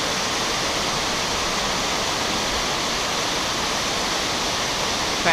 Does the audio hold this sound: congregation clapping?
no